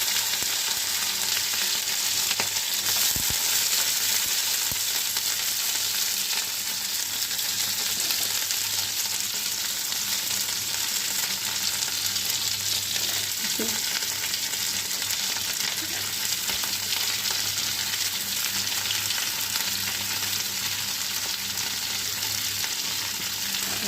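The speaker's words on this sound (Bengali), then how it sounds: "ফুলকপি দিয়ে ভাজা ভাজা করে নেবো।" Potato and cauliflower frying in a pan with five-spice seasoning, a steady close sizzle and crackle running unbroken throughout, with occasional stirring clinks and no talk.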